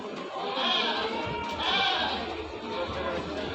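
A goat bleats amid the bustle of a crowded goat market selling small castrated goats for Qurban, with several bleats rising over steady crowd noise and nearby talk.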